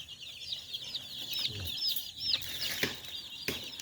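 Gamefowl chicks in a brooder with a heater, a steady run of high, repeated peeping chirps close by, with faint rustling and soft thumps underneath.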